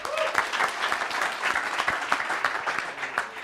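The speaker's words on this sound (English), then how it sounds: "big applause for Juliette" Moderate applause at a general assembly gathering, with individual claps clearly audible in an uneven, lively rhythm over a few seconds.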